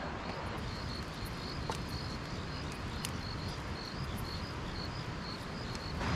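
Crickets chirp steadily in a continuous pulsing chorus, soft and evenly spaced over a quiet outdoor night hush at a remote mountain campsite, with no voices.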